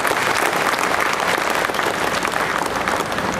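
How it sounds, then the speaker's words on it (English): Brisk applause from an environment and sustainability summit audience in Goa, a dense, even wash of clapping from many hands lasting a few seconds. "Can we have a round of applause for all the dignitaries on the dais?"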